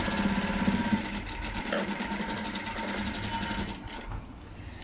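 A sewing machine stitching a blouse, running steadily and close up with a dense, rapid mechanical whir that continues without a break for several seconds.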